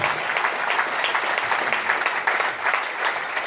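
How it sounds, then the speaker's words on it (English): An audience at a GAA panel event applauds steadily, a dense wash of clapping from a crowd that continues without pause. "can I have a massive round of applause for Benny Tierney"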